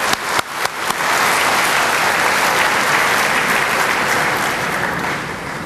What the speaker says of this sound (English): I'd like us to give them a round of applause